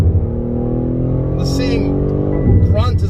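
A 2022 BMW M3 Competition xDrive with a ZF 8-speed automatic drones loudly and close, then the engine note drops with a quick downshift blip near the end, with brief voice sounds over it.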